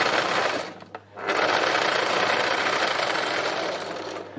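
A sewing machine stitching through thick wool fabric for an autumn landscape piece runs in a loud, continuous mechanical whir, pausing briefly about a second in before resuming steadily to the end, with no voices.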